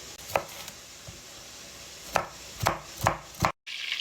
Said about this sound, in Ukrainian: І нарізаємо соломкою перчик.